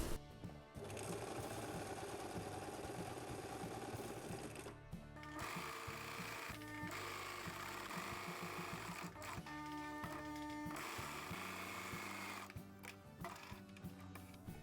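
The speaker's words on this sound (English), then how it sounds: "I'm going to sew it all together and add some of this rounded elastic band to be able to close it with a button." A sewing machine hems fabric for a gimbal case, running steadily and loudly in a fast mechanical chatter, with a few brief stops and restarts between long sewing runs.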